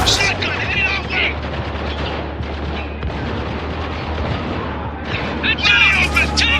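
Gunfire rattles through a Spec Ops: The Line firefight, dense overlapping rifle bursts and heavy booming shots over a deep rumble, loud and continuous, with shouted voices mixed in at moments.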